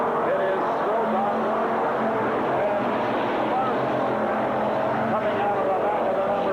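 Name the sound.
race cars on a speedway after the green flag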